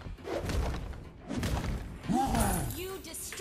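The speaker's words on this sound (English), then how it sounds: "Your tower is getting destroyed." A tower crumbling in the Mobile Legends: Bang Bang video game, heard as heavy thuds and a shattering crash with whooshing effects, loud and layered over continuous game music and talk.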